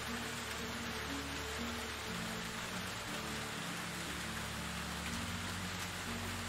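Rain falling in the Medieval Dynasty video game, a steady unbroken hiss of drops pattering on surfaces with a low rumble beneath, constant in level and with no voices.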